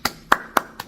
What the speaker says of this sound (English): We gotta clap it up for you.